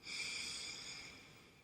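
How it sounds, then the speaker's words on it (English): A slow, steady ocean-breath exhale from pranayama practice hisses through the throat and nose, close and soft, fading gently toward the end. "you exhale over your throat, out through your nose. It's an ocean sound"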